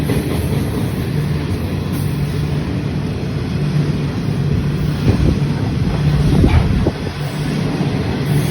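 Southern Shorthaul Railroad coal freight train rolling through Parramatta Station in Sydney, Australia: a steady, loud low rumble of wagons passing close by that holds for the whole stretch, with wind buffeting the microphone.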